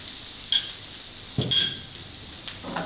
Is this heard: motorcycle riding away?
no